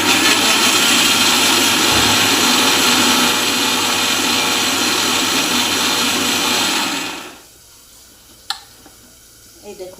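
A kitchen grinder whirs loudly and steadily while grinding a spice paste with water, then cuts off abruptly, leaving near quiet broken by a couple of small clicks.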